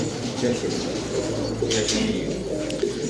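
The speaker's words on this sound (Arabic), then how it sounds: "هاي الحمام وين بتطير؟" Pigeons coo in repeated throaty rolls at a bird market, near and clear over a low background hum and some faint voices.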